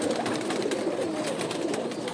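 Pigeons cooing steadily and close at hand, a soft continuous murmur of coos alone with no talk, while a bird is held in the hand for inspection.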